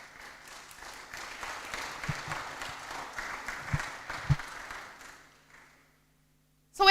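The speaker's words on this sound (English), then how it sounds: "Give them a round of applause again" Audience applause at a literacy program launch event, a dense round of clapping that holds for about five seconds before tapering off into quiet. A sudden loud noise closes the moment.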